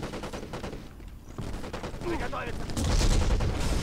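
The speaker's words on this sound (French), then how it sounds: "Il tire sur qui, là?" Gunfire from the PS2 video game Black rattles in steady bursts, growing louder and busier toward the end, with game sounds mixed in and someone talking over it.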